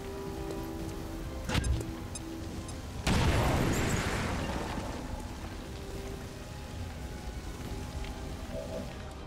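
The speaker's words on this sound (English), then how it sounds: "Give him an explosion" A single explosion blasts out in an XCOM 2 battle, a sudden broadband boom that rumbles and slowly decays over several seconds beneath steady game ambience, preceded by a smaller thump.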